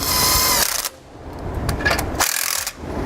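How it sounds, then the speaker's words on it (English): Nut tightened onto a U-bolt with an 18mm socket, likely a ratchet or power tool, while fitting a rear anti-sway bar to a 2012 Mercedes-Benz; close mechanical bursts of whirring and rattling, broken by short pauses. "we'll thread it on and tighten it down using the same 18mm socket"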